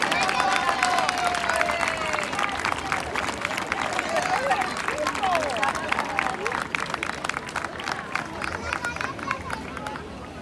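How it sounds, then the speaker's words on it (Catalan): A crowd applauds at the Barceloneta festa major as the little giants Gala and Pipo make their entrance, sustained dense clapping for about ten seconds with cheering and chatter mixed in, tapering slightly at the end. "Endavant, un fort aplaudiment per ells."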